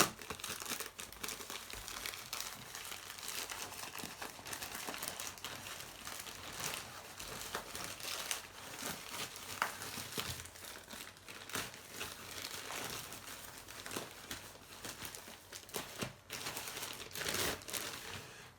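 Plastic packaging around comic books crinkles and tears in continuous close, quiet rustling bursts with no talking.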